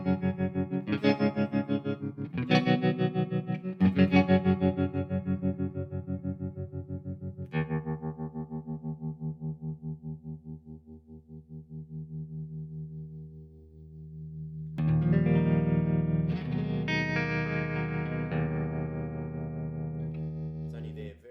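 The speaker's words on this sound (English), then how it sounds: "you can take it up to an almost kind of slicer kind of sound" Guitar through a Brookfield tube amplifier with a fast, choppy tremolo that slices sustained chords into rapid pulses, loud strums giving way to a long decaying ring before a fresh chord rings out.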